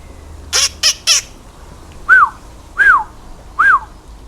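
A white hawk at a wildlife rehabilitation centre in Trinidad gives three short harsh squawks, then three loud, clear downward-slurred whistled calls, evenly spaced and close by.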